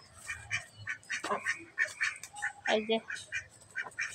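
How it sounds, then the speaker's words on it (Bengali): Ducks quack in a series of short, nasal calls spread through the clip, with someone speaking briefly over them outdoors near brush where the birds lay eggs. "এই যে এটা কিন্তু মরগ হাঁস"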